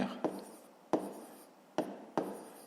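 Pen strokes on paper while working through a fifth-grade math exercise, heard as scratchy writing with four sharp tap-like starts of new strokes and soft scribbling between, close and clear with no talk.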